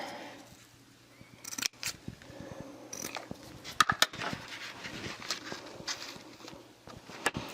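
Scissors snipping through scrapbook paper while crafting a Halloween wall hanging, heard as a few close, crisp cutting clicks and rustles amid quiet handling noise.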